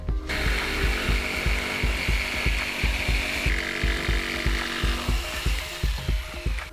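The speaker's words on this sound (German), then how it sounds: "Darum raus mit der Stichsäge" A jigsaw cuts through wood close by, its blade chattering in a fast, regular rhythm with a buzzing motor whine throughout.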